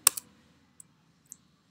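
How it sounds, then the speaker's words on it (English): Sharp key clicks on a computer keyboard while coding in Android Studio: a quick double click up front, then two faint isolated taps, close and quiet. "If you guys press tab here"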